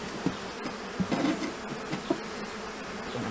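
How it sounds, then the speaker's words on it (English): Agitated honey bees buzz around a hive the day after a swarm, a dense, continuous droning hum up close, with a few soft knocks and bumps from the hive. "So the bees are getting a little bit more agitated, but still not angry or aggressive, just more of a moving around."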